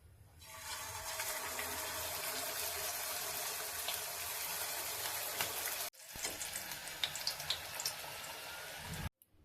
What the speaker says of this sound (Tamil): எல்லாத்தையும் நம்ம பொரிச்சு எடுத்துடலாம்.